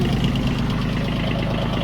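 An old tractor with live hydraulics idles close by, a steady, loud, low rumble with a faint rhythmic knock and no pauses.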